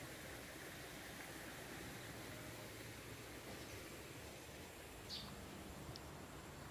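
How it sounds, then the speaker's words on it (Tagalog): A stream runs beside a farm lot near a river, a steady broadband rush of flowing water, continuous and fairly distant, with no voices. "Running water."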